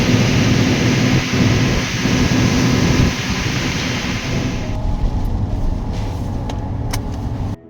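Strong typhoon wind and storm on Tinian Island roar loudly and continuously, with broadband gusting and rumbling that eases slightly toward the end, heard with no talking.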